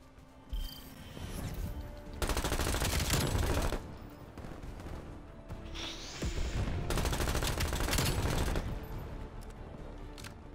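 Aircraft strafe run in a video game: two long, loud bursts of rapid automatic gunfire roar out, each lasting over a second, separated by a brief lull filled with rumbling battle noise.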